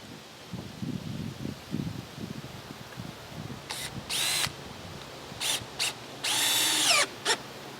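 A power drill driving screws into scrap wood boards while an outdoor quail hutch is built, with several short whirring bursts and one longer run, preceded by soft scraping and handling of the boards, with no talking.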